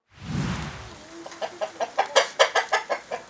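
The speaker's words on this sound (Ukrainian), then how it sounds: "12-річний Володимир Перепелиця підгодовує курей." A low rustle gives way to a hen's rhythmic clucking as hens are fed, a series of short, evenly spaced clucks growing slightly louder, close by.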